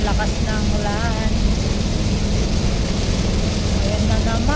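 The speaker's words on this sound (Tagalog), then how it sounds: "Bumuhos na naman ang ulan." Heavy rain pours down during a road trip through the Ilocos Region, a dense, steady roar that fills the whole clip, with faint voices or music murmuring underneath.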